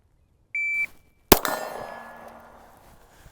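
A shooting par timer set on delay gives a single short electronic beep, then a loud gunshot cracks at a range and rings out with a fading tail.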